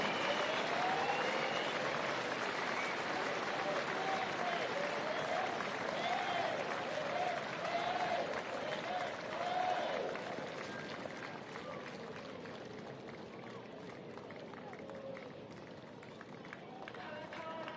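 Audience applause and cheering at a schools rugby medal presentation after a senior cup final, a sustained broad roar of clapping and crowd noise that gradually thins and fades over the span, with voices mixed in.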